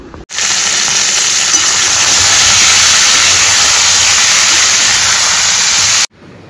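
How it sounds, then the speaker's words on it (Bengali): Green chillies and whole cumin sizzle loudly in hot, slightly burning oil with a little flour in it, a dense continuous hiss that starts abruptly, holds steady for nearly six seconds, then cuts off. "তেলটা পুড়ছে, কাঁচা লঙ্কা আর গোটা জিরে ফোড়ন দিয়ে"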